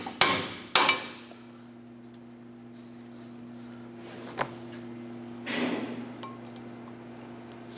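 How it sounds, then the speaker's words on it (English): Steel pry bar tapping the seized brake pad backing plate inside a 2008-2012 Honda Accord caliper bracket: two sharp metallic knocks close together, then a lighter tap and a scraping clunk over a steady low hum. "Just going to use our pry bar and tap the brake pad backing plate,"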